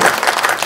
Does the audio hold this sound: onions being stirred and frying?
no